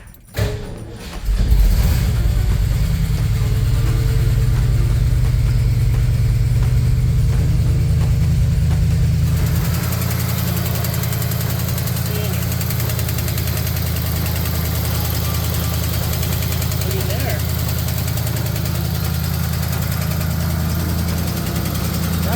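A 1974 Ford F100 pickup engine cranks briefly, catches and settles into a steady, loud idle that runs close by to the end, with a faint valve tap in the rumble and no talking.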